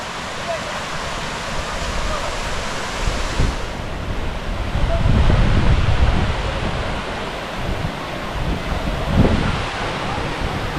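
Masila waterfall pours down heavily, a loud, dense roar of water mixed with wind buffeting the microphone, building closer and heavier partway through.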